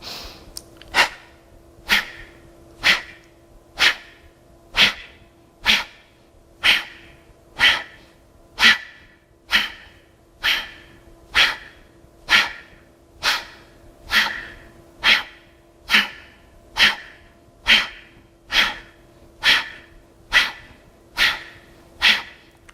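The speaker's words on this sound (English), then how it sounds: "Nice explosive exhale. And a nice passive inhale." Rhythmic breathing exercise with sharp, explosive exhales through the nose and quiet passive inhales, repeated steadily about once per second for over twenty seconds, loud and close with no talking.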